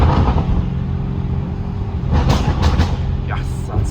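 A Novitec-tuned Lamborghini Urus with a loud custom exhaust drones at a steady low pitch while driving, with a few sharp bursts of noise near the end.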